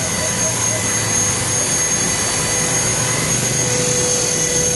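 A small KDS450c RC helicopter rotor whirs at a steady pitch on a windy rooftop, with a constant buzzing hum and wind noise close by throughout.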